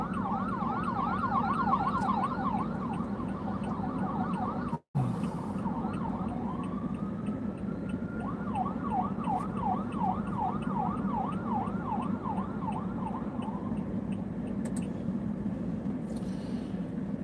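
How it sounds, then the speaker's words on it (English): An ambulance siren sweeps past during a live structure and line fire update, its wailing tone rising and falling steadily over rumbling traffic, with a brief dropout partway through before the wail carries on. "that is an ambulance that went by"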